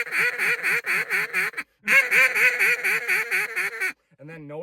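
A duck call blown in repeated quacking bursts, loud and close, a fast run of nasal quacks, a short break, another run, then a lower trailing note at the end.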